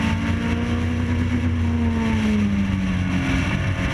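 A Caterham race car at Brands Hatch braking and turning into the Druids hairpin, its engine note a steady, loud drone whose pitch slowly falls as it slows, with the sound of the car filling the whole stretch.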